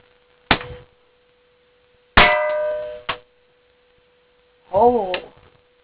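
Air gun firing BBs at a target, three sharp metallic cracks with short ringing decays spread over several seconds, each followed by a brief tail, with a steady hum underneath.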